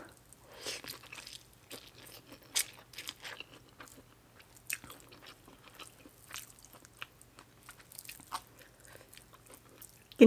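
Someone eats Thai rice noodles with fish sauce alongside spicy papaya salad and cha-om, with close, quiet, irregular crunching and chewing bites spread across the moment and no talking.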